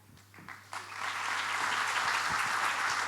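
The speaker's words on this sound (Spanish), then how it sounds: "Y a ver cómo se escucha ese fuerte aplauso para Juan Sasturain" Audience applause for author Juan Sasturain at the opening of an open-air book fair, rising from a few scattered claps into sustained, dense clapping from a sizable crowd.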